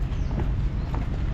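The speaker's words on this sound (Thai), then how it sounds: "ใครอยากจะขี่ม้าก็ได้นะครับ ม้าตัวโต ๆแต่มันมีแบบรถม้าลำปางเลยนะ" Hooves of a large horse pulling a Lampang-style carriage clip-clop steadily in a continuous stream, close and fairly loud against a busy outdoor rumble.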